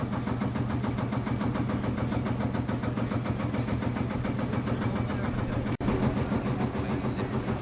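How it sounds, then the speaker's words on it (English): John Deere Lindemann crawler tractor with a John Deere engine, transmission and Lindemann tracks, at a vintage sale. Its engine runs steadily with an even, pulsing chug at close range, broken by a single sharp click. "This John Deere Lindemann crawler uses John Deere transmission and engine and tracks"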